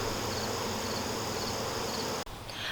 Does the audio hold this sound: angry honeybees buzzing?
yes